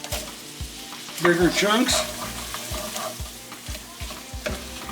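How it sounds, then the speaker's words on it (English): Apple chunks sizzle in an oiled pan while a utensil taps and scrapes in a steady repeating rhythm, close by, with a brief spoken comment over the frying. "Stir it up, we'll get this nice and softened, and then the apples will come along."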